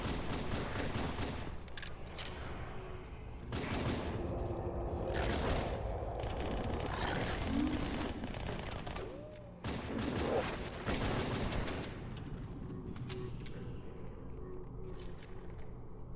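SMG gunfire in Halo 2 rattles out in repeated rapid bursts, layered with mechanical clatter and low rumbling combat noise from a match in progress.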